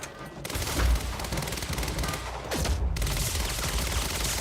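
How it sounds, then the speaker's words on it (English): Sustained submachine-gun fire in the shooter game Quantum Break, dense rapid bursts running almost continuously with heavy low booms, loud and close. "Let our SMG do the work here."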